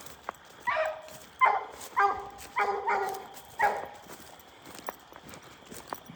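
Hound dog barking at a treed animal during a night hunt, a handful of distant, echoing bays and howls spaced about a second apart, faint over a quiet outdoor background.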